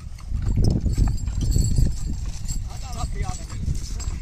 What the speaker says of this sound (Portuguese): Ó o cavalo.